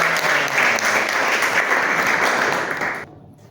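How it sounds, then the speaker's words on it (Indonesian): Sustained applause from a lecture class, a dense even crowd of clapping hands that fills the room for about three seconds before stopping abruptly. "Kasih tepuk tangan dulu dong"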